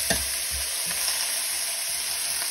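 Chopped leek hitting a smoking-hot pan and frying, a steady loud sizzle with a few stirring knocks and scrapes near the start, close by and with no talking.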